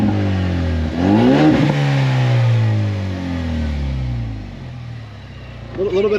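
A Ford Mustang EcoBoost with a muffler delete accelerates hard, its engine note climbing through the revs and then easing off, loud and close, with voices talking over it.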